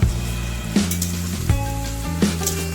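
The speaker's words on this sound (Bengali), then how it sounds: "এবার দিয়ে দেব ভেজে রাখা সয়াবিন।" Fried soybean chunks drop into a spice mixture in a pan, giving a steady loud sizzle and crackle with a few sharp bursts as pieces land and get stirred, close by, with no talk.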